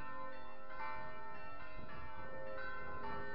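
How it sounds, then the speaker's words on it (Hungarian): A Reformed church bell rings out loud and steady in a continuous peal, its rich overlapping tones filling the street with no voices over it. "Hát megpróbálom túl kiabálni a harangot"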